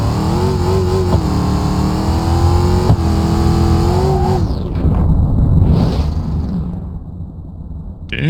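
Car engine in BeamNG.drive revs loudly on a testing map, a rising harmonic whine for about four seconds before breaking into a rough crash-like rumble and fading to near silence.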